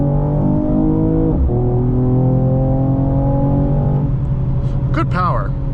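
A 2020 Mercedes-Benz E53 AMG engine surges on a downshift, its note climbing steadily and then dropping with a quick gear change and a brief rise at the end, loud and close from inside the cabin.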